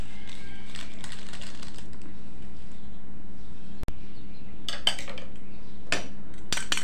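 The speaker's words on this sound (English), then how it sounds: "Whisk until well combined." A whisk works an egg and coffee hair-mask mixture in a bowl, giving sparse, light clinks and taps against the bowl over a quiet, humming background.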